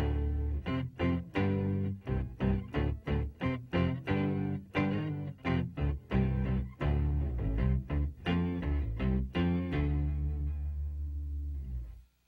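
Electric guitar played through an Electro-Harmonix Micro POG set fully wet for a sub-octave bass tone: a steady run of picked notes with a deep, thick low end, ending on a sustained note that fades out.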